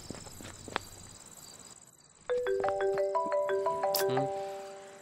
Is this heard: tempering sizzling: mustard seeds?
no